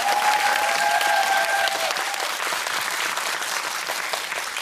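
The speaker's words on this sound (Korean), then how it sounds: "다시 한번 세 분께 박수 부탁드리겠습니다" A cinema audience at a CGV Yongsan guest screening applauds three guests, a thick, even wash of clapping throughout, with a faint tonal whine at the start before the applause settles slightly softer.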